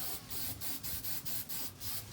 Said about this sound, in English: the whole bay is now sprayed in the really metallic-y silver